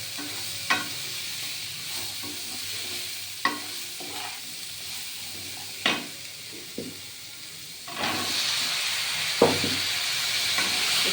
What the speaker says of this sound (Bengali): ছোলাটা ভাজা ভাজা করবো